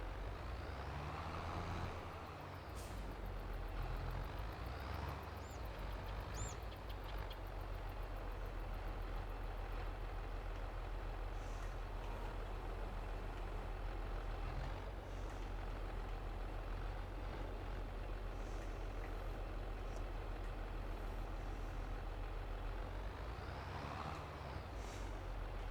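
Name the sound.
vehicle engine while harvesting wheat, from video game Farming Simulator 22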